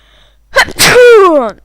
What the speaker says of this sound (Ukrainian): Секунду я чихну.